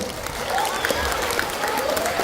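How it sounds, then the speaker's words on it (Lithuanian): A crowd gives lively applause at the closing celebration of a library arts-days project. The even clapping runs the whole time while a voice speaks faintly over it. "Ačiū labai, audringi plojimai."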